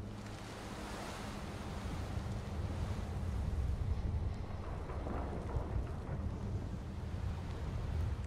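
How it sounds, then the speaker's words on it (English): Roaring dust storm wind in the video game Beyond Two Souls, a dense, continuous rushing gust with low rumbling, loud and steady throughout with no talking. "Oh, it is a storm."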